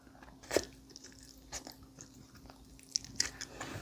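Someone eats pork bone hangover soup, biting and sucking meat off the bones, with close, wet crunching and slurping sounds coming in irregular bursts over a quiet background.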